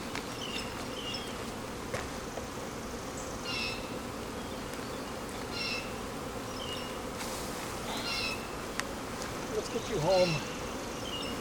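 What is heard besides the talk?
honey bees buzzing at a hive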